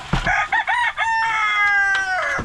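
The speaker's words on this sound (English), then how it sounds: "the rooster is chasing hens around" A rooster crows loudly and close by on a farm, a long drawn-out call after a few short clucking notes, with no talking.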